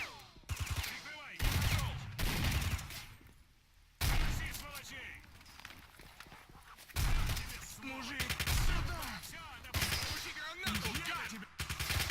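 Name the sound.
gunshots in video game STALKER: Shadow of Chernobyl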